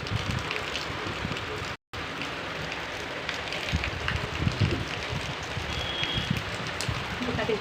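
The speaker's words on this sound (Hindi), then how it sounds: "सुबह होते साथ ही तेज़ बारिश होने लगी" Dense, steady hiss of heavy rain pouring down, with scattered drips and patters on surfaces close by, continuous throughout.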